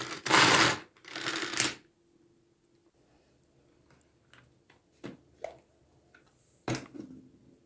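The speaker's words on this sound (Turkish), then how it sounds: "Evet, cevizlerimizi çekelim." Walnuts are crushed in a manual food chopper: two loud, rough grinding bursts open, followed by sparse, quieter clicks and knocks at irregular intervals.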